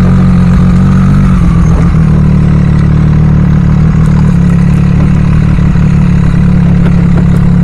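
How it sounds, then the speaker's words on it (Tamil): Triumph Street Triple RS 765 motorcycle idling, a steady loud low rumble with strong harmonic bands, close by and continuous throughout with no talking. "இதோட ஐடல் சவுண்டு கேளுங்க."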